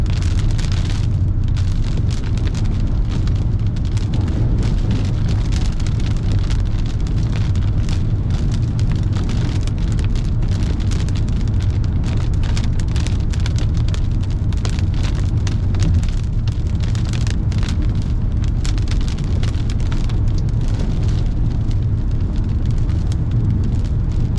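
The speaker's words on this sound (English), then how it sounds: "we haven't had a storm like this in a little while" Heavy rain pours down in a steady, loud roar during a severe thunderstorm with 70 mph winds, close and unbroken throughout, with no voices.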